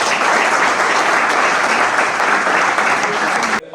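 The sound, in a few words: audience applause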